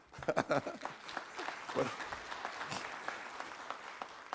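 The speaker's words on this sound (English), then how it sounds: "I'm never expected applause unless I say something funny." An audience at a talk on doing business with the federal government breaks into applause, fairly faint and distant, with a few louder voiced sounds near the start before the clapping settles into a steady patter.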